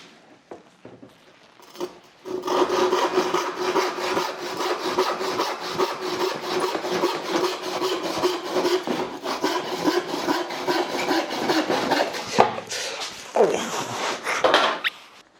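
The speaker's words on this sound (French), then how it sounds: "il vous faut une scie et je la coupe en deux" A hand saw rasps back and forth, cutting a piece of wood in two in quick, rhythmic strokes, close and steady for over ten seconds, ending with a few final scrapes.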